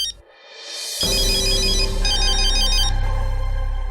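A phone ringtone starts after a brief quiet moment, a bright repeating electronic melody playing loudly and steadily to the end.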